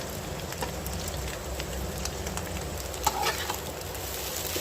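Egg chow mein, lightly salted, frying and being stirred in a pan: a steady, close sizzle with soft scraping throughout and a slightly louder stir near the end.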